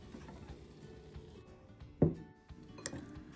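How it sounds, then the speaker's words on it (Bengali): A bowl of masoor dal cooking with tomato and green beans is lifted out of a microwave oven, giving one sharp clink followed by a faint tick against quiet room background. "3 মিনিট হয়ে গেছে, বাটিটিকে আমি এবার বের করে নিচ্ছি।"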